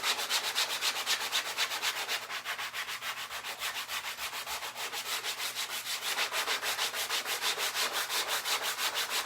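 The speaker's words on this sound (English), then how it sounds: "I have just a sanding block, and now I'm just going to sand this down." Sanding block rubbed over wood in steady, rapid back-and-forth strokes, a continuous close scratchy rasp with a brief lighter patch midway.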